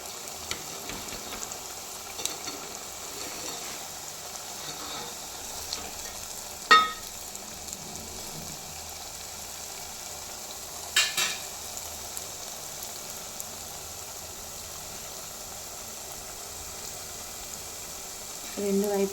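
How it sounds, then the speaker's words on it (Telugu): Moong dal vadas (pesarapappu vadalu) fry in hot oil with a steady, even sizzle throughout, broken by a couple of brief clinks and a few soft spatters. "రెండు వైపులా మంచిగా గోల్డెన్ బ్రౌన్ కలర్ వచ్చేంత వరకు వీటిని మంచిగా వేయించుకోవాలి."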